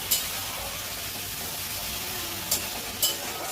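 Chopped onions and green chilies frying in mustard oil, a continuous soft sizzle with a few brief clinks of stirring scattered through it, close by and without any voices.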